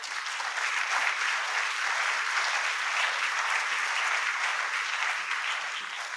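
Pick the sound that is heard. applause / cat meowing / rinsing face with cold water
applause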